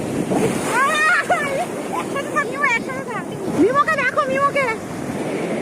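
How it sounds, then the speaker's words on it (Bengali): Ocean waves breaking on a beach make a broad, continuous wash with gusts of wind noise against the microphone, while people talk over the surf throughout. "আগের থেকে ঢেউ যেন অনেক বেড়ে গেছে"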